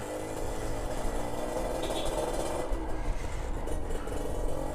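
Engine of a modified motorcycle just back from service running steadily, a dense, loud, continuous mid-range rumble with no talk over it.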